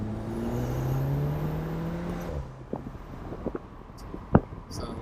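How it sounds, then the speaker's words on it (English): A 2016 VW Golf R MK7 with a Bull-X downpipe pulls hard in second gear, its engine note climbing steadily for about two seconds before easing off into lighter road noise with a few faint clicks. "We're gonna do a second gear pull from 30 to 45."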